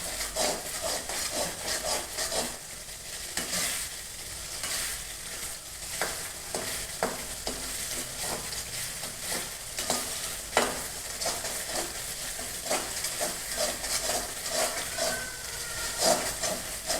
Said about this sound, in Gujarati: હવે આપણે તેને સારી રીતે હલાવી લઈશું.